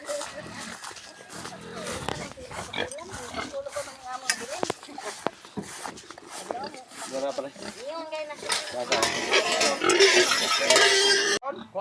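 Pigs on a farm grunt and squeal repeatedly as they are caught for weighing, over steady activity, growing into louder, harsher squeals toward the end.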